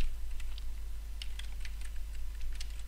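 Rapid, light typing on a computer keyboard, with irregular clicks and taps close by over a steady low electrical hum, and no voices.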